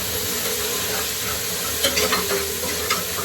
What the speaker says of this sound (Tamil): பச்சை மிளகாய் புதினா கொத்தமல்லி நல்லா வதக்கிக்கலாம்.